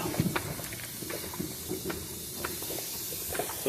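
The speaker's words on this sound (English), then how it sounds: "So you can hear that sizzle." Cheeseburgers sizzle on the top rack of an outdoor grill, a steady broadband hiss with faint pops and crackles, close and even throughout.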